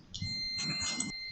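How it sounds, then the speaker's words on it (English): A relay circuit buzzer gives a thin, high electronic tone with a couple of brief pulsing bursts, fairly faint and steady, with no talking. "Buzzer sound?"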